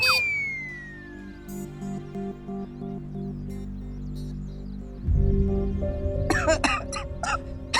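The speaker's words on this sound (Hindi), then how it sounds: "खांसी हो रही है," Several harsh, close coughs erupt near the end of a scene from a children's fantasy TV drama, following a stretch of sustained background music.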